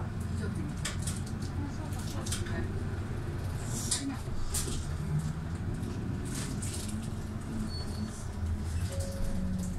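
A Nagoya city bus, vehicle NH-268 on the Naruko 11 route, pulls away, its engine a low steady rumble heard from inside with road noise, while a voice talks over it.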